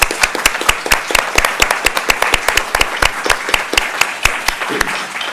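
A meeting audience claps after a board's 5-0 vote, steady close applause with scattered individual sharp claps throughout, no talking.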